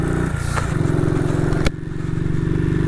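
A 1959 BSA motorcycle engine runs steadily while being ridden in sub-zero cold, its low, even throb continuous throughout, with a brief sharp knock or clunk partway through before the revs settle slightly lower.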